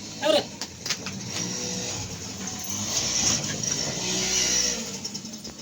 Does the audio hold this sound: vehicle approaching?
yes